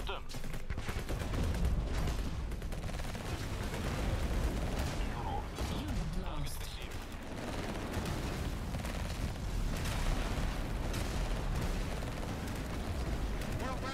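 Sustained gunfire and explosive battle noise from the real-time strategy game Tempest Rising, a dense, loud, continuous barrage with unit voices speaking over it.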